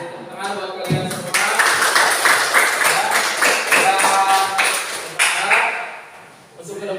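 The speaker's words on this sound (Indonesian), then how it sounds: "Kasih tepuk tangan buat kalian semua." Students applauding in a classroom, a dense burst of clapping lasting several seconds after a teacher's brief speech, then fading out.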